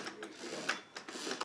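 Sewing machine stitching a quilt block under foot-pedal control, a close, steady whirring hum with faint rhythmic clatter running throughout.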